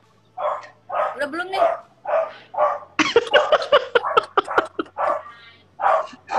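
A small dog barks in short sharp bursts, several quick yaps in a row and then a few spaced ones, close and loud, interleaved with people talking.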